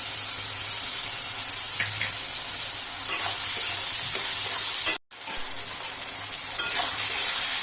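Ginger-garlic paste sizzles in a pan with tomatoes and green chillies for chicken keema chickpea ghugni, a constant close hiss of frying broken by scraping stirs and one brief cut-out midway.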